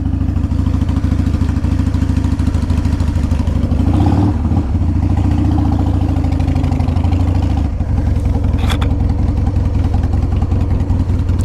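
A 2000 Harley Davidson Sportster 1200 V-twin idles loudly and steadily up close just after starting with the choke pulled, a deep lumpy rumble with a short revving swell and a faint click near the end.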